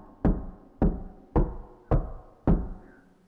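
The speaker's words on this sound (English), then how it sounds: "Was that six knocks? Then three?" Five solid knocks on a door sound within a video game called The Arrowhead Incident, evenly spaced about half a second apart, each a sharp, close thud with a short decay, with no talk over them.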